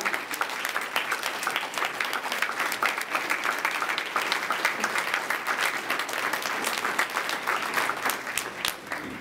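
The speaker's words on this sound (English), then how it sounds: "And please give them a round of applause." A crowd at a film premiere claps steadily, a dense, even patter of many hands held at a consistent level throughout, moderately loud in an indoor room.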